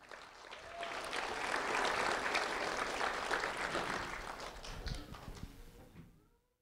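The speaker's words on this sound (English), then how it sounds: "a round of applause for Madeline Hope Breyer" An audience applauds a first-grade student at a school recognition event, a steady crowd clapping that holds for several seconds and then fades away.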